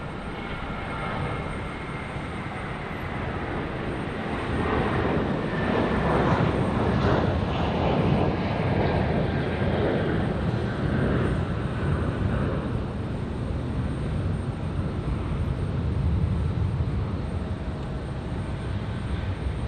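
A fixed-wing airplane arriving at Raleigh Durham International Airport, its jet engine roar building steadily into a loud, sustained broadband rumble that holds close for most of the stretch before easing slightly.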